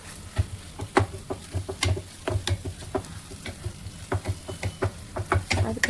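Ginger garlic paste fries in a pan for a plain biryani, a close, steady sizzle broken by quick, irregular clinks and scrapes of a spoon stirring against the metal.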